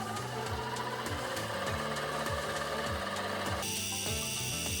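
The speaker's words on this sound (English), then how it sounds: "We're going to spot drill." A metal lathe spot drills a cosmetic washer, a steady, close whirring hum with a rhythmic rubbing pulse repeating about three times a second, joined near the end by a brighter high whine.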